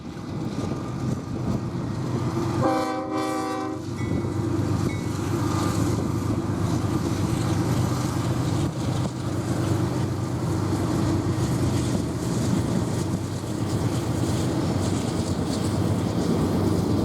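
Freight train in Cheyenne, Wyoming rumbling past steadily for the whole stretch, with one short horn blast sounding early before the heavy, continuous rolling noise carries on.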